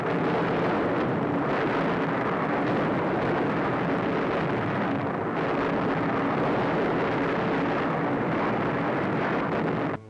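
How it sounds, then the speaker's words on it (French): Explosives blasting away a rock cap covering a coal seam on a mountain, heard as a loud, sustained roaring rumble that fills the whole stretch with dense broadband noise and drops off abruptly at the very end. "faire sauter la calotte rocheuse qui la recouvre à coups d'explosifs"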